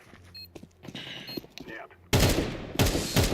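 Bursts of rapid gunfire from a video game, loud and dense, break in after quiet game sounds with brief mid-clip pauses between volleys.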